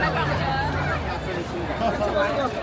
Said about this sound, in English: that's the crowd.